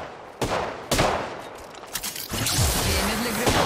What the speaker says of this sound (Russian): Стреляю.